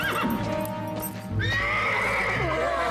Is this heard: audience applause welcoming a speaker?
no